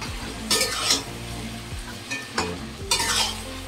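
Biryani masala sautéing in a pot, with a steady low sizzle beneath repeated close scraping and stirring strokes; a few bright clanks of a spoon against the metal pot punctuate the frying, with no talking.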